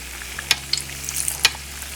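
Malasadas, Hawaiian-style donuts, bubble in hot oil with a soft frying hiss, punctuated by a few sharp clicks as the dough pieces are turned.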